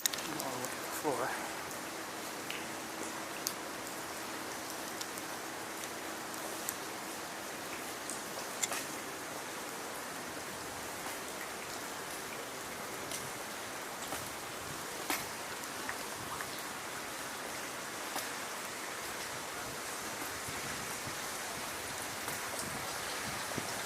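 Rain falls outside in a continuous broadband hiss, with scattered drips and ticks standing out now and then.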